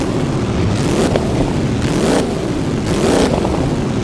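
An F1 car in the racing sim Assetto Corsa on the Goodwood Festival of Speed hill climb, its engine screaming loudly and rising through repeated upshifts, with the pitch dropping sharply at each gear change.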